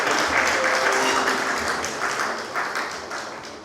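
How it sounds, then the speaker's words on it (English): An audience at a university media event applauds with sustained, dense clapping that holds steady, then slowly thins and fades over a few seconds. "Let's clap for him."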